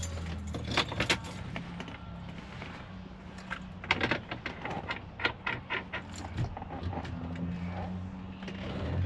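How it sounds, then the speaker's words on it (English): Car keys jangle and clink in irregular bursts inside a VZ Calais during a steering wheel swap, close metallic rattles and taps with a few louder knocks, no speech over them. "keys in there"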